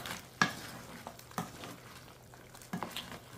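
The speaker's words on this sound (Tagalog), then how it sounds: "So, ngayon natin hahaluin." Crab simmering in coconut milk gets stirred in the pot, three distinct scraping strokes with clacks of shell against the pan over a soft, steady bubbling sizzle, close and moderately quiet.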